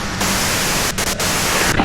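Loud, steady radio white noise hisses in the video game Disco Elysium, a broad wash of static with a few brief dips and crackles.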